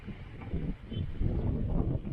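Steady broadband wind noise buffets the microphone throughout at Fort Santa Isabel park in Taytay, Palawan, a low rumbling gust with no speech, swelling slightly louder in the second half.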